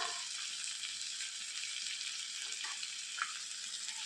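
Chopped tomato, finely cut green chillies and salt fry in a pan, giving a steady bright sizzle with a few faint stirring taps, close and continuous with no talking.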